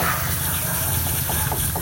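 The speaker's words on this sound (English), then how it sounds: "I want to go over every square inch of this thing with this water hose" Water from a garden hose sprays steadily over a metal beaver trap, rinsing coating residue off it, a loud continuous hissing gush with faint clinks underneath.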